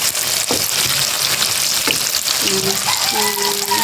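Tofu (tokwa) fries in a pan for a stir-fry with kangkong and alugbati, a dense, continuous sizzle with a few light clinks of a utensil near the end.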